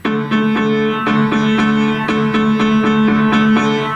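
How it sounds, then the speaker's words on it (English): Trombone notes in a warm low register, a short phrase of sustained tones with soft articulated attacks, played alone and close. "Trombone 2 and baritone are starting on the D"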